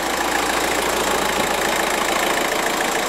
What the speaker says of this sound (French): le moteur tourne déjà, c'est une bonne chose